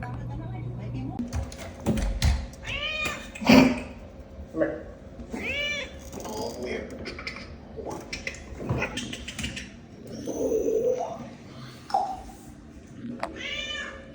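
A cat meows repeatedly in a home before being put into a kennel for a vet trip, its cries scattered through the stretch among household clatter, with people talking nearby.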